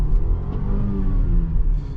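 A 2023 BMW X3 30i with a 2-liter turbo engine accelerates, a steady low rumble with rising engine tone heard from inside the cabin, continuous and fairly loud.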